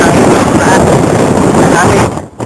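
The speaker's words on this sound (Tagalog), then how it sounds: "Sobrang lakas ng hangin." Strong wind buffets the microphone at the peak of Mt. Pico de Loro, a loud continuous roaring rush that drops off briefly near the end.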